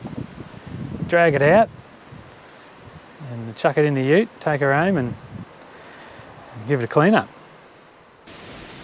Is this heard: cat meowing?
no